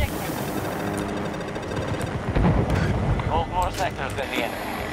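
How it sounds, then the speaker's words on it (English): Helicopter in the Battlefield video game, a broad rotor-like rumble and whooshing wash running throughout, loud and steady, with excited players shouting over it. "Helicopter, helicopter!"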